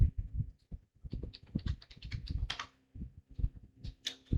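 Keys clatter on a computer keyboard as a short word is typed, quick uneven taps in two bursts with brief pauses between, close and fairly crisp.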